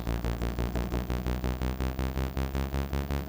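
A Cherry Audio Elka-X synthesizer plays a fast run of short repeated notes in a steady pulse, with a slow ramp LFO rising underneath and shaping the tones.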